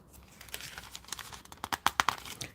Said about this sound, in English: And I just like to hear the pages turn.